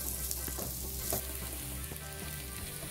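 Garlic and onion sizzle steadily in a frying pan with oil, a close, continuous hiss broken by a few light scrapes of stirring, with no voices.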